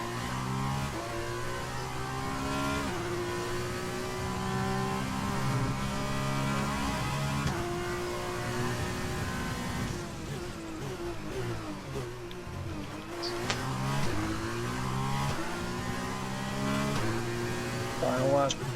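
Race cars circle a track on the final lap, their engines droning and rising and falling in pitch as they pass. A commentator talks over the continuous loud motor noise.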